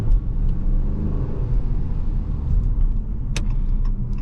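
A Ram 1500 Classic pickup truck's engine accelerates with a steady, loud low rumble and growl that holds throughout, with a few faint clicks and rattles near the end.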